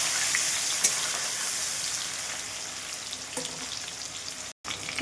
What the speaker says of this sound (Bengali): এবার কেটে রাখা পেঁয়াজ কুচিগুলো তেলের মধ্যে দিয়ে দেবো, দিয়ে দিয়েছি। এবার হালকা করে একটু ভেজে নেব।